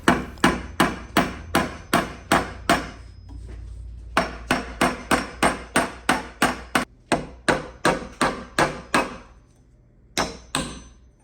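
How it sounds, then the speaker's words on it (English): A hammer drives nails into a 100-year-old Neoclassical French chest of drawers under restoration, striking in quick, even bursts of sharp wooden knocks with brief pauses between runs, close and loud. "find the center, and then hammer it in from there"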